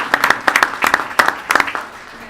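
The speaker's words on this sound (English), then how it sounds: "a big round of applause for them" Applause at a school board of education meeting honoring a national championship team, brief scattered clapping from a smallish audience with distinct individual claps, fading toward the end.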